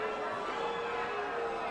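Fight crowd in an arena roaring with booing and jeers, a dense sustained wall of voices filling the space at steady loudness.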